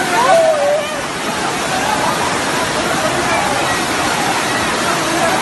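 Rushing floodwater in Jaipur, a loud continuous broadband roar of flowing water, steady throughout, with a brief voice and faint tonal sounds early on.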